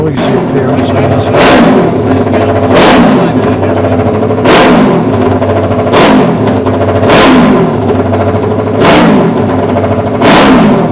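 A classic racing motorcycle, bike number 7, revs hard in the Classic TT paddock, its engine loud and close with repeated throttle blips rising and falling about every one and a half seconds.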